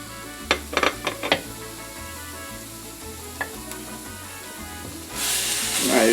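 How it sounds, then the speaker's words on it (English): Beef going into a hot pan for burrito filling, a few sharp utensil clinks first, then a loud broadband sizzle swelling up and holding steady, close and without speech. "next step right now is to cook our beef"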